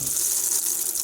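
Clear water rushes through the flushing line of an inboard boat motor being winterized, a steady hissing gush heard up close without pause.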